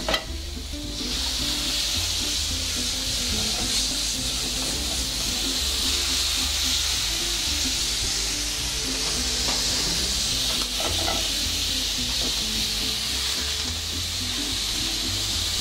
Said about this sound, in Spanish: Y ahora flambeamos un poquito con ron.